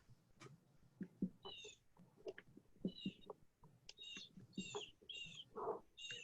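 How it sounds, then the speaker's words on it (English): A bird chirps in the background of an online coastal resilience committee meeting, with short, bright calls repeating every half second or so among faint clicks and knocks. "I'm not hearing anything from Liz except maybe a bird in the background somewhere"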